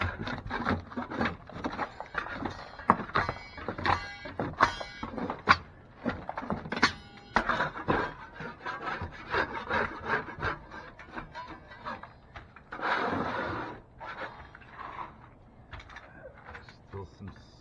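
Old paper tape being scraped and dug out of a loose sheetrock ceiling seam, with irregular scratching, rubbing and tool knocks, close and uneven, with a voice talking over parts of it.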